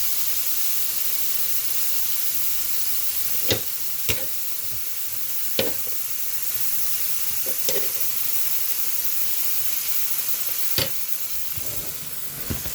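Vegetables with cilantro fry in a pan, a constant bright sizzle and hiss broken by a few sharp clinks and scrapes as the food is stirred.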